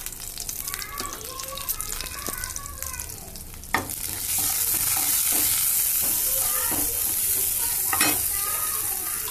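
Cumin seeds hit hot oil in a pan for horse gram kadaiyal, a quiet kitchen with faint voices suddenly giving way to a loud, steady, close sizzle that holds to the end while voices continue underneath.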